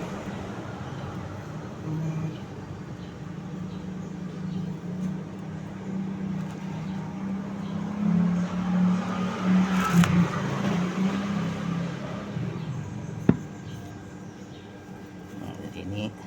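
A Honda Supra 125 motorcycle engine runs at a steady idle, a close, continuous low hum that swells slightly midway, with a single sharp click near the end.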